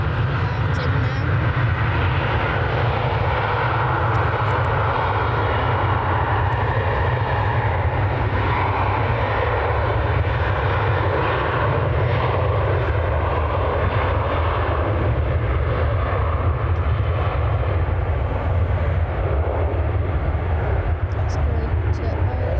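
A Ryanair jet taking off at Manchester Airport gives a sustained, loud, rumbling engine roar with heavy low-end power lasting throughout.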